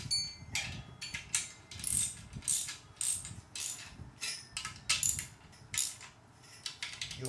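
Bolts on a wind turbine assembly being tightened during balancing, giving a close, steady run of ratcheting clicks in short repeated bursts of roughly even rhythm with brief pauses between strokes, and no talking.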